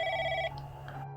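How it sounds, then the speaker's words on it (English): Landline telephone ringing in a small room with a desk and coffee maker, a single loud electronic ring tone that cuts off after half a second, leaving faint room noise. "The phone rang"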